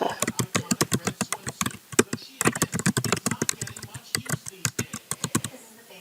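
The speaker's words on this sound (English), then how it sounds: "if I type in here" Someone types on a computer keyboard with a rapid, close run of crisp key clicks. The clicks pause briefly near the middle and then continue.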